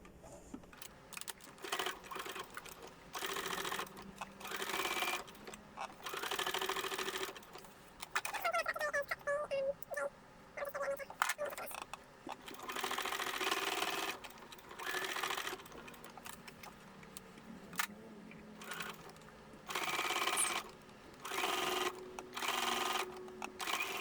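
A domestic sewing machine stitches down a folded fabric edge on a gothic-punk style blouse, running in close, steady bursts of rapid mechanical whirring with short pauses between runs.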